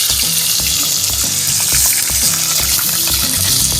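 Potatoes fry in a pan on a wood-fired clay stove in a village kitchen: a loud, continuous close-up sizzle with a rhythmic scrape-and-clack of stirring running throughout.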